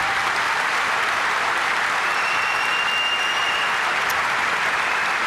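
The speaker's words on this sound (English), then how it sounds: "I'll accept that round of applause on behalf of every veteran that's here" A large commencement crowd at a university undergraduate graduation applauds in a dense, continuous roar of clapping that holds at an even level with no voices heard.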